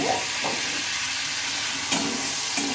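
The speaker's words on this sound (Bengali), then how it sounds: "আবারও আমি তেল দিয়ে নিয়েছি কড়াইয়ে এবার উচ্ছেগুলোকে আমি ভেজে নেব" Bitter gourd pieces fry in oil in a kadai with a steady, close sizzle. A few scraping stirs of a spatula are spaced through it and there is no talking.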